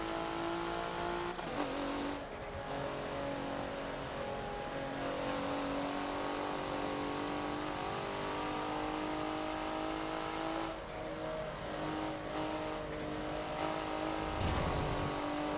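A race car engine in the Forza driving game drones at high revs through a lap of the reversed Rio National circuit, loud and sustained, with a couple of brief throttle lifts and a short tire scrub near the end.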